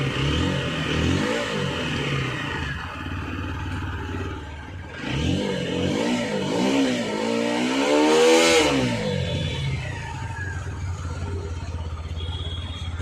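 A TVS Apache RTR 160 4V motorcycle with a slow-speed problem revs as the throttle is opened, its engine rising and falling in repeated swells, loud and close, with a higher climbing rev near the middle.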